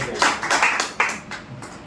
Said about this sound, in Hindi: एक ताली मार दीजिए